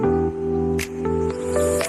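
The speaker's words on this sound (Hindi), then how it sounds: "2 गिलास इसमें पानी ऐड करेंगे, मिक्स कर लेंगे।" About a kilogram of raw fish is mixed by hand in water and vinegar, giving wet squishing and splashing sounds close up over a steady background hum.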